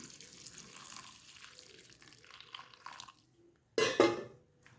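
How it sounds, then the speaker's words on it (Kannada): Bitter gourd being rinsed in a bowl at the sink, with soft sloshing and dripping first, then a near silence, then a sudden loud gush of running tap water that splashes over it for about a second. "ಇವಾಗ ಇದನ್ನು ಎರಡು ಸಲ ಮತ್ತೆ ನೀರು ಹಾಕಿ ವಾಶ್ ಮಾಡಿಕೊಡೋಣ"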